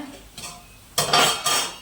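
Rice tipped into a pot of boiling water for kanji, giving a couple of short clattering, rustling bursts with a metallic pot rattle, fairly close and loud with no talk.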